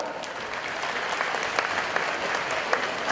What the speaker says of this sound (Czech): Potlesk pro Ivan.